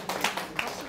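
A small audience at a lecture gives brief scattered applause, a few quick claps close by that fade within a second.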